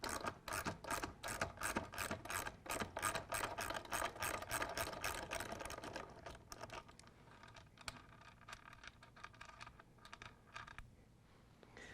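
A ratchet wrench removes the seat bolt nuts on a Juiced HyperScorpion e-bike, with rapid, rhythmic clicking strokes up close that slow and become sparser, quieter turns toward the end, no speech.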